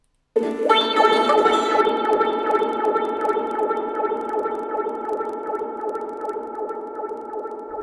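Layered dub echo effects smear a bright tonal source sound into repeating, decaying delays, a dense ringing wash with rhythmic pulses that slowly fades over several seconds, with no voice.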